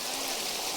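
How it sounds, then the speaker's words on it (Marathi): Water flowing and splashing on a farm, a steady close hiss of falling water with no pauses, short and moderately quiet. "हा मस्त पाणी पडायले हे इकडं"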